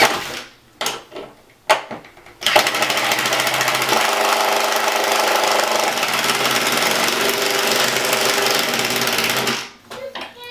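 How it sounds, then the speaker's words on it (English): A power driver runs in one long, loud, steady whine for about seven seconds, screwing a replacement window frame into place, after a few sharp knocks and handling noises. "screw this side in"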